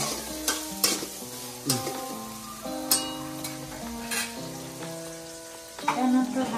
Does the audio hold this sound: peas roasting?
yes